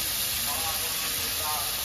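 Spice paste is dropped into hot oil and sizzles in a dense, continuous hiss that fills the whole moment.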